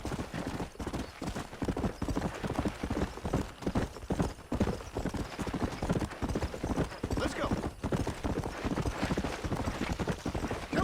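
Horse hooves clip-clopping in a steady galloping rhythm in the video game Red Dead Redemption on PS5, with close, continuous thuds over the full stretch and faint game ambience behind them.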